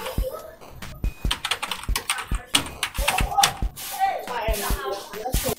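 Rapid clacking keystrokes on a computer keyboard as a short title is typed, irregular bursts of crisp taps close up, with a voice talking between them.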